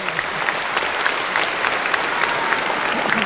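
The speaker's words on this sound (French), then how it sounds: "j'aimerais qu'on applaudisse cet homme là-bas qui a dit la bonne réponse" Audience applause fills a convention conference hall, a dense, steady patter of many hands clapping at close range throughout.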